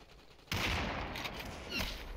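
Dense burst of gunfire in the Population One VR battle royale game starts abruptly and keeps going loud and continuous, with a second surge of shots near the end; no talk is heard.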